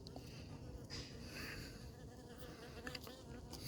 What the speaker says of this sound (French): il y a un frelon qui a capturé une abeille qui marche